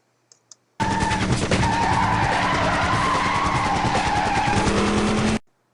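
The Fedora Coupe, a generic hot rod in a vehicular combat video game, skids with a sustained tire squeal over engine noise for about four and a half seconds. The sound cuts in and out sharply, with no talk.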